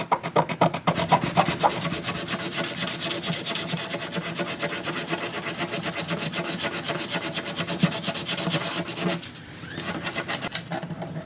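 Small sanding sticks rub back and forth over guitar wood on a 1945 Martin, a fast rhythmic scratchy rasp up close that runs steadily and then briefly pauses near the end.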